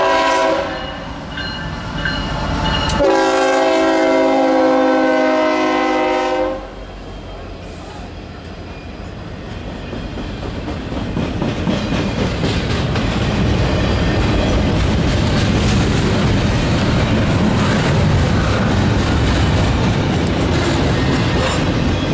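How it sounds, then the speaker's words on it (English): CSX SD70 locomotive-hauled freight train passing close by, opening with a loud sustained horn blast, then a long rumbling roar of wagons with rhythmic clickety-clack over the rails. "has a fresh unit that was coming out of the shops at Huntington, West Virginia. It's a CSX SD70 Mace."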